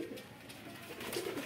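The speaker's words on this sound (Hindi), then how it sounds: "और ये देखो अपने सारे कबूतर मस्ती में लगे हुए हैं, कुछ यहाँ है, कुछ छत पे, कुछ ऊपर।" Domestic pigeons gathered around a rooftop coo softly, a faint, low, throaty murmur that rises slightly toward the end over quiet background hiss.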